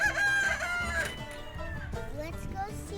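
A rooster crows loudly close by inside a chicken house on a farm, followed by the steady clucking of hens.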